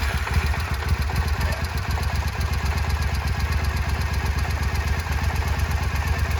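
A Triumph America motorcycle engine idles close by, a steady, even chugging with rapid rhythmic pulses and light mechanical clatter, with no voices.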